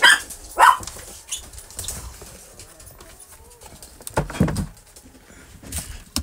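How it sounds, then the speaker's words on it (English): Dogs bark excitedly indoors, a few sharp bursts that come and go at a moderate distance, with quieter rustling between them and no talking. "Dogs are going crazy."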